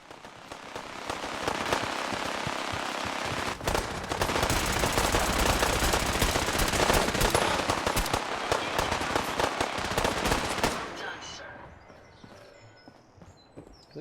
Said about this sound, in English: We got a chain gun.